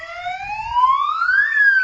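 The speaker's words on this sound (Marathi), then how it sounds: "आम्ही अशा पद्धतीचे सायरन आहेत लावले की सगळे अलर्ट हो" An electronic home alarm siren wails in a continuous rising sweep with layered tones, fairly loud and steady, with faint low rumbling underneath.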